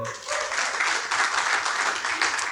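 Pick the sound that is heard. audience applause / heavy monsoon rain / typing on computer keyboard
audience applause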